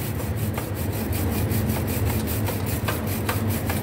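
Bicycle parts from a FELT bike being scrubbed and polished clean at a shop, giving steady, close rhythmic rubbing strokes with a low mechanical hum underneath.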